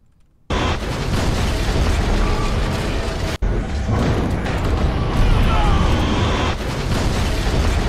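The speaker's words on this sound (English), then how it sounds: "Cause a huge explosion." Huge explosion in Garry's Mod, a sudden loud blast followed by a long, dense roaring rumble of debris and fire that holds steady, with a brief dropout and a second burst partway through.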